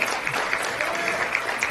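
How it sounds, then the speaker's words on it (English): A graduation audience at a ceremony for Middle Eastern and North African graduates at the University of Michigan claps steadily in a full, dense burst of applause throughout. "you can applaud on that if you want."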